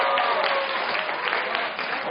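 Audience at a lecture on AI and robots breaks into steady, dense applause, loud and continuous throughout with no talk over it.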